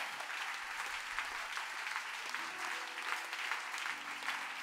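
A church congregation standing to applaud and acclaim the Lord during a worship service, steady dense clapping throughout with faint cheering and a low sustained tone underneath.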